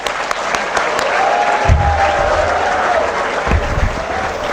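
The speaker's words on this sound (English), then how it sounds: "please give a big round of applause for yourself" A crowd applauds steadily at a graduation ceremony, the clapping dense and sustained throughout, with a few cheers and a low rumble mixed in.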